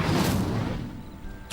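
An Incendio fire spell cast in the video game Hogwarts Legacy, a single loud whooshing burst that swells at once and then fades out over about a second.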